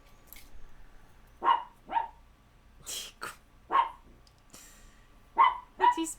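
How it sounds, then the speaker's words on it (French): A dog barks in short muffled bursts, about six spaced barks, with its head pushed under a blanket, close and fairly quiet in a still room. "Il a mis sa tête dans le drap pour pouvoir aboyer."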